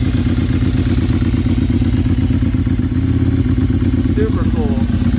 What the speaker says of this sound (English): Listen to that clutch.